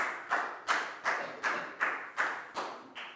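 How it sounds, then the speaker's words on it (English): A classroom of Year 4 pupils claps in a slow, steady rhythm, eight sharp unison claps about every 0.4 seconds, close and fairly loud with no talking. "High five and a big round of applause for Pat"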